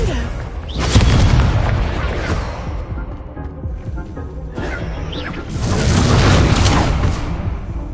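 Confringo blasting spell explosion in the Hogwarts Legacy video game, loud booming bursts with crackling debris, a second blast swelling after a brief lull amid game sound.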